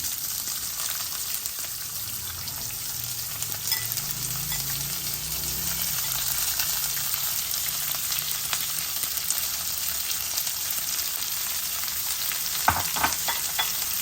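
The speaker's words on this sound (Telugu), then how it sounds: "కొంచెం జీలకర్ర తర్వాత ఉల్లిపాయలు వేసేసుకున్నాం" Onions and cumin fry in a pan with a steady, close hiss of sizzling oil, joined by a few brief scrapes of stirring near the end.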